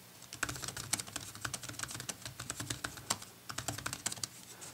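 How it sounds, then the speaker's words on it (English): Fingers type steadily on a MacBook Air 11-inch keyboard fitted with a Rearth Verco keyboard cover, giving soft, muffled, rapid clicks that are close and quiet. "Now let's go ahead and start typing and see how this sounds."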